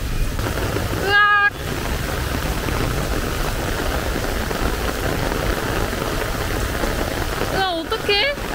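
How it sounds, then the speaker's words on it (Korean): Heavy rain pours steadily in a dense, continuous hiss with no breaks, and people briefly exclaim over it near the start and end. "우와, 비가 더 많이 오는데?"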